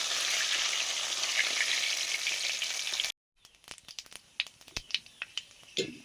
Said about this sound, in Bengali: শোল মাছের মুড়ো ভাজা হয়ে গেছে